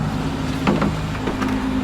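A car passes on a city street behind an outdoor plant-repotting spot, a brief swelling road whoosh over a steady low hum of urban background noise.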